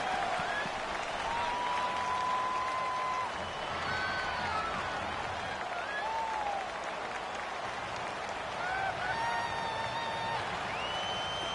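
Loud, steady stadium crowd roar in a PS4 American football video game, a dense continuous wash of cheering and noise with whistles and shouts rising above it throughout, no spoken voice on top.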